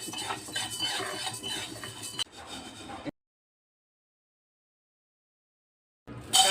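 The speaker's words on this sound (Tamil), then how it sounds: "இது நல்லா செவந்து வறுக்குங்க கறியை விட்டுறாதீங்க வறுத்துருச்சு" Spoon scraping and clattering in a pan while ingredients for a garlic spice powder dry-roast, a steady busy clatter for about three seconds, then silence and a brief burst of stirring at the end.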